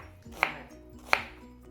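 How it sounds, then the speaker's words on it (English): Onions and peppers being cut with a knife give two sharp, separate knife strikes about three-quarters of a second apart, close and crisp over a low background hum. "So I'm cutting up some onions and some peppers"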